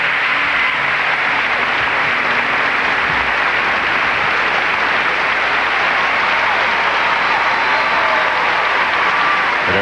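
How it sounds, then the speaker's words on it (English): Audience applause fills an arena after a skating pair's performance at a 1995 legends figure skating show, broad steady clapping and crowd noise holding loud and continuous throughout. "It earns them a big round of applause."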